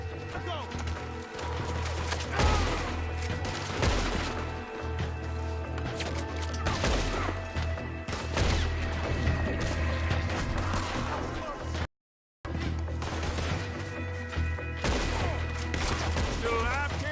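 A gunfight in Red Dead, with loud, dense volleys of gunshots and rapid fire over game music and character voices, interrupted by a short gap of silence.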